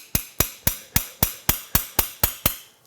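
Steady hammer strikes ring out on a small hex key during the strip-down of an Audi S8 D2 engine, about ten sharp metallic taps in an even rhythm. They are close and clear, with no talking.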